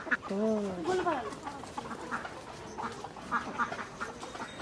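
Chickens cluck and squawk nearby in a repeated, uneven run of calls while people talk over them.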